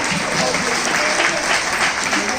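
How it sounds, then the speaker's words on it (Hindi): Loud, dense applause fills a Jain temple hall during a pichhi-changing ceremony in Indore, a continuous wash of many hands clapping at close range with no break. "उनका जोरदार तालियों के साथ।"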